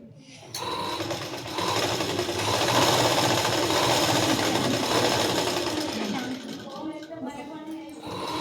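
Sewing machine stitching the front part of a blouse, a dense continuous rattling whir that builds in and holds steady before easing off near the end, close by, with a voice speaking over part of it.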